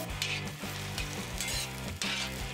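Onion, garlic and vegetables such as bell pepper and tomato fry in oil and butter on a disco for a seafood mariscada, a steady sizzle broken by a few stirring scrapes, with no talking.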